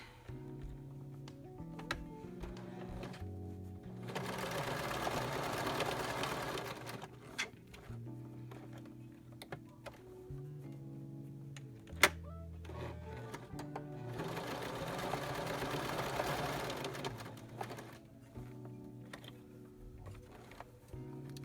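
Sewing machine stitching a fitted face mask for glasses-wearers, sewing forward and backward in two sustained runs, with lighter mechanical clicks and short stops between them, close and fairly quiet.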